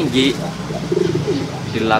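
Losdor racing pigeons coo up close and loud, a run of throaty, repeated coos filling the whole stretch with little pause.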